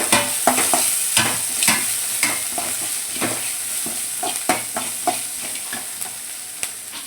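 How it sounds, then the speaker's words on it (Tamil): Onions and curry leaves sautéing with rock salt in a pan, a steady sizzle broken by a regular series of spatula scrapes and knocks against the pan roughly every half second, up close and fairly loud, no voices. "அப்புறம் கருவேப்பிலை, அப்புறம் ஆனியன் எல்லாத்தையும் சேர்த்து நல்லா வதக்கிக்கலாம்"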